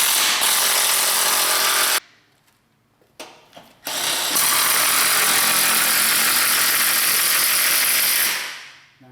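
Ratchet turning 17 and 19 mm sockets on the carriage bolts of a Honda S2000, loud continuous clicking near the mic, broken by a short pause with a few knocks before resuming.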